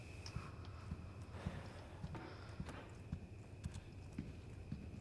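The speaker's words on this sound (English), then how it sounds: "I'm hearing footsteps." Footsteps in Resident Evil 4 Remake: a steady run of soft, rhythmic thuds over a constant background hum, like hooves or heavy boots on hard ground, continuing without pause and moderately close.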